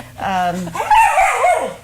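Dog at an animal shelter giving a couple of short yips and whimpery barks close by, mixed with people talking around it.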